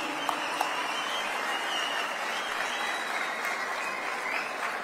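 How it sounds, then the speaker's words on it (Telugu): A crowd at a public event applauds for a minister, steady dense clapping that holds at an even level for about five seconds with no speech over it. "గట్టిగా ఒకసారి చప్పట్లు కొట్టి all of you appreciate minister now"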